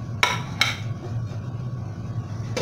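Metal cooking pots clank in a home kitchen as rice is moved from one pot to another: two quick sharp knocks close together, then a third after a pause, over a low steady hum.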